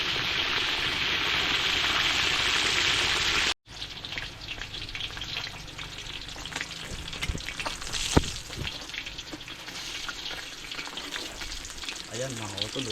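Tilapia frying in hot oil, a loud dense sizzle for a few seconds that cuts off, then a quieter crackle with scattered clinks and stirring.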